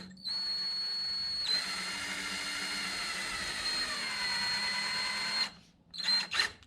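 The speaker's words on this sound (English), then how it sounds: "we're simply going to screw one of our screws in right into the enhancer" A power drill drives a screw into a nesting post enhancer, a steady close whine that runs for several seconds, then stops and gives way to a few short bursts.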